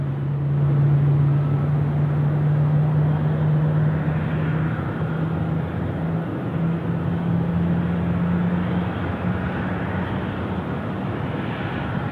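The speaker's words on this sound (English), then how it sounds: "Here we go, another G90 spooler." A jet's engines spool up at Sydney Airport at night, a loud sustained roar with a steady droning tone that rises and wavers throughout, with no talk over it.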